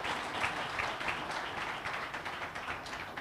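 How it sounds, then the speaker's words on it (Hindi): Audience applause for Vinay Singhal at an awards ceremony, a fairly faint but steady spread of clapping from a crowd throughout, with no speech over it. "एक बार तालियां हो जाए विनय जी के लिए।"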